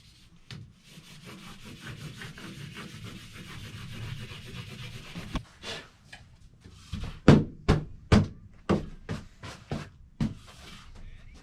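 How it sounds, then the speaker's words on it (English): Paint is scrubbed and rubbed into a canvas by hand with the fingers in an artist's studio, a soft continuous rubbing that gives way to a run of sharper, louder strokes near the end. "I get to do like some scrubbing and then rub it in with my fingers"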